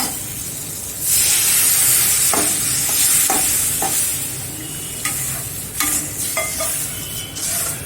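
Ingredients for pidi karunai kuzhambu, a Tamil yam curry, sizzle and crackle steadily in a hot pan, with bright hissing and scattered clinks of a utensil stirring, no voices.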